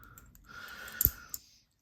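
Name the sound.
clicking of magnetic fidget slider toy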